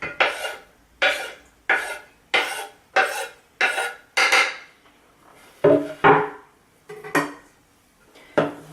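Walnut pieces are stirred into paleo banana loaf batter in a bowl, giving a series of about ten close, short scraping and clinking strokes at a steady rhythm with brief pauses between.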